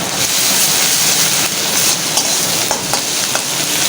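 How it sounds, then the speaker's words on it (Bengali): Ginger-garlic paste and fried onions sizzling in a pan while being stirred, a loud, close, steady frying hiss with a few scraping clicks. "দিয়ে মশলাটা একটু ভালো করে কষিয়ে নেব।"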